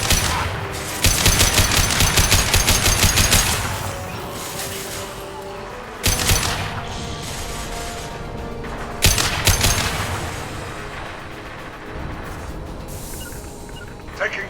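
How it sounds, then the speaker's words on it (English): Gunfire in the video game Mass Effect Legendary Edition: a rapid automatic burst followed by a few separate heavy shots over a constant game-ambience background. "Firing an impact shot!"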